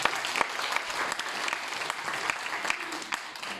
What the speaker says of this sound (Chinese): 感谢您热情的掌声